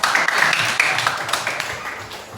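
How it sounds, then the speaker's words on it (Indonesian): A burst of scattered clapping from a classroom group, fairly close, tapering off over a couple of seconds. "Tepuk tangan dulu, Kak."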